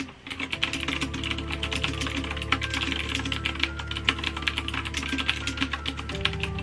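Fast, steady typing on a computer keyboard while writing a book, close and clear with dense irregular key clicks and no talking.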